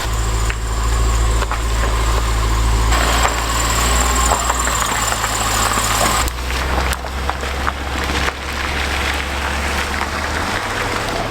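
A Land Rover LR4 5.0 V8 runs close by after a timing chain replacement, a steady idle with a deep low hum and light ticking, unbroken and without voices.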